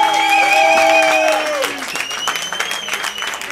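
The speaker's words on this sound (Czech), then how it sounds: "velký potlesk" A crowd claps in a saloon at a Christmas charity event for dogs, just after an auction closes, while sustained tones and a voice ring out over the start and the clapping carries on alone afterward.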